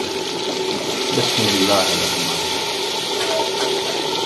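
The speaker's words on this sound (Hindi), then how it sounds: "अभी इसमें हम ऐड करेंगे शोरबे के लिए कुछ पानी।" Water is poured into a pot of fish curry to make the broth, a short gurgling splash of liquid running into the pot while someone speaks.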